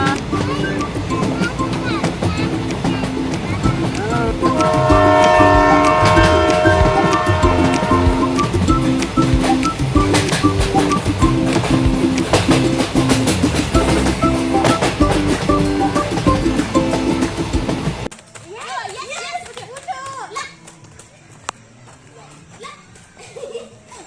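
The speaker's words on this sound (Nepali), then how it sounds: "ट्रेनमा जाँदैछु है" A loud, continuous rumble of a moving train with a sustained tonal whine, dropping abruptly to a quieter interior hum near the end.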